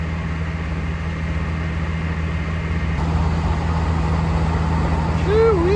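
Pair of Peterbilt semi trucks hauling big trailers, heavy diesel engines rumbling steadily nearby with a low droning hum throughout.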